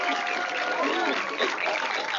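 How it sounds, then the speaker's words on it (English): An audience at a media festival applauds animation and experimental filmmakers, a steady, fairly faint wash of clapping through the short stretch with no break. "So if you all could stand up so we can give you a round of applause."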